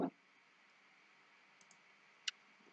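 Quiet single computer mouse clicks on a file in Microsoft Teams, a couple of soft taps and one sharper click, over a faint steady background hum.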